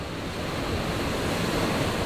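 Eastern Caribbean Sea waves below a cruise ship balcony on deck 8 of Icon of the Seas, a steady broadband wash of surf and rushing water with wind buffeting, continuous and fairly soft.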